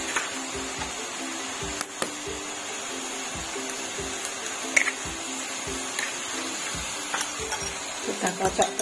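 Vegetables frying in a pan over medium heat for a simple scrambled-egg vegetable stir-fry: a steady, quiet sizzle runs throughout, broken by repeated light clicks and scrapes of stirring.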